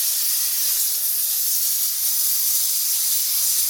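A Dupray Neat steam cleaner blasting steam in a bathroom, heard as a loud, steady, close hiss that holds without a break and with no voices.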